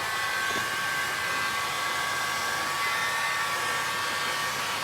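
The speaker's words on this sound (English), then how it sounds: "we're going to use a heat gun to get this party started" A heat gun blows steadily on freshly applied pink paint on the brakes of a Ford Courier, a constant loud, close roaring hiss with a faint whine, unbroken and alone throughout.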